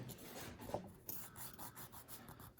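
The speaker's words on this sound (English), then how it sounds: "remove some of that extra material at the same angle the fingernail was filed at before." A fingernail is filed for fingerstyle guitar playing, a soft, close, rhythmic rasping of repeated short strokes, quiet and alone.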